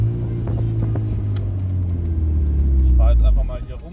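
Mazda MX-5 fitted with a turbo and a homemade exhaust, driving: a steady low engine drone and exhaust rumble that swells slightly toward the end, with a voice speaking over it.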